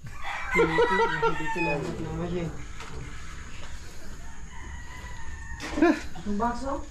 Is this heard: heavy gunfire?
no